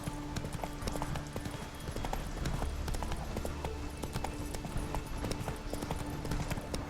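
Hooves of Roach, the horse in The Witcher 3, clip-clop in a steady trotting rhythm, close and continuous throughout.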